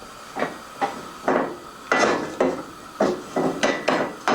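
Rice added to a pan of melted animal fat for Mexican rice, with a series of sharp clinks and scrapes of grains and utensil against the pan at an irregular pace, close and fairly loud, under a faint sizzle.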